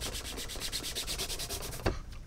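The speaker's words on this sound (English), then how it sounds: "go ahead and buff it up, because that nylon will produce a little bit of heat" A nylon cloth buffs a caiman crocodile leather boot in quick, rhythmic back-and-forth rubbing strokes, close and steady, ending with a soft tap, with no talking.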